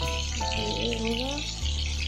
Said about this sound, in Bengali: মাছগুলো ওদিকে ভাজা হচ্ছে